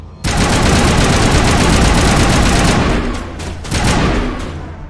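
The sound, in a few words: burst-fire sniper rifle shots in the video game Mass Effect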